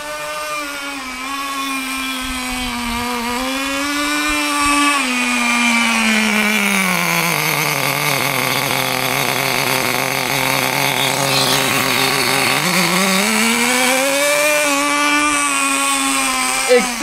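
A Bycmo 1/10 nitro RC car engine runs nearby with a loud, buzzing drone that climbs in pitch, holds high for several seconds, then drops back toward idle, steady and continuous throughout.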